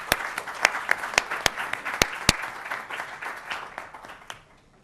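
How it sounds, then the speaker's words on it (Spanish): An audience applauds a woman during a prize draw at a business conference coffee break, with steady clapping punctuated by several sharp, loud individual claps before it thins out and fades at the end. "Muy bien, un aplauso también para la dama."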